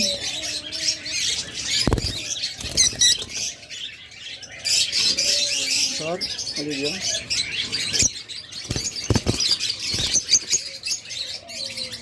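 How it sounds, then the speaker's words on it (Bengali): An olive opaline budgerigar pair chirps in repeated bright twitters and short calls, with scattered wing flutters and other cage birds faintly behind, loud and close throughout. "চমৎকার অলিভ অপালাইন জোড়া, দুইটাই সেম কালার।"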